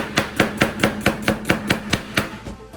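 Knife chopping through an onion for tropical pico de gallo on a cutting board, about a dozen evenly spaced crisp chops in a steady rhythm, close and clear with no talk.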